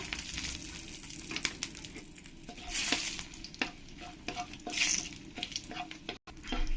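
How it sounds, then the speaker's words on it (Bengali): Cumin seeds, dried chillies and bay leaves sizzle in hot oil, with continuous crackling and spattering close up and intermittent scraping and stirring in the pan. "এবার এই তেলের মধ্যে দিয়ে দেবো এক চামচ জিরে দিয়ে দেবো শুকনো লঙ্কা তেজপাতা"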